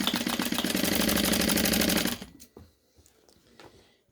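A sewing machine stitches thin surgical wrap fabric with a loud, rapid, steady buzz for about two seconds, then stops and leaves only quiet handling noises nearby.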